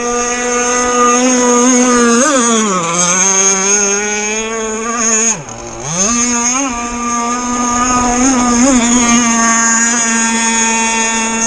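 A Jersey skiff motorboat runs hard on the water with a loud, close, steady engine drone. The engine briefly dips in pitch a few times, most sharply midway, then settles back to its sustained roar.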